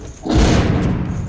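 A grenade explodes in the zombie survival video game The Walking Zombie 2, a single loud, deep boom that swells after a brief moment and rumbles on without fading for over a second.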